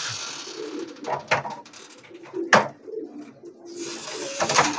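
Pigeons in a loft give several soft, throaty coos in uneven bursts, close by, with a few sharper rustles and flaps between them.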